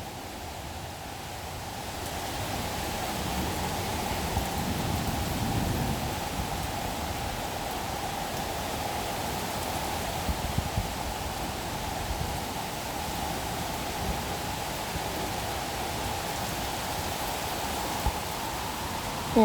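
Steady roar of a gusting summer thunderstorm in Washington, DC, with rain and wind noise filling the whole span, a stronger surge swelling through the middle, no talk.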